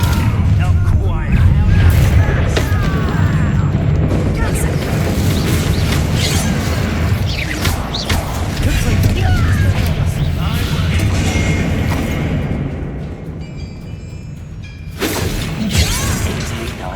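A Confringo fire-blast spell cast in Hogwarts Legacy, heard as a dense run of booming crashes and shattering impacts over a sustained rumble, with a sharp new burst near the end.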